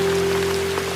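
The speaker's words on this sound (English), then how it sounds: "Hello everyone, it's raining today." Steady rain falls on a rainy day in a village, a dense, even hiss of drops on surfaces that holds close and constant throughout.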